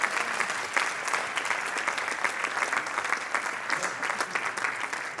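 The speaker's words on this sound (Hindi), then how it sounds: "तो चलिए एक बार और हम दिल से ताली बजाएंगे हमारे सारे कलाकारों के लिए।" A theatre audience at a Hindi stage play, Khamosh Adalat Jari Hai, applauds the actors with steady, dense clapping that stays loud and even for several seconds without any talk.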